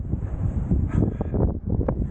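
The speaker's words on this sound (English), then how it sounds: "The wind up here is like nothing I've ever experienced. It's absolutely hurricane-like, even in this shelter." Strong hurricane-like wind buffets a mountain summit ridge, a low rumbling roar with gusty surges battering close to the microphone, even from inside a shelter.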